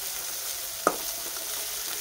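Onions and peanuts fry in oil in a pan for upma, a soft steady sizzle with one brief crackle near the start and no talk.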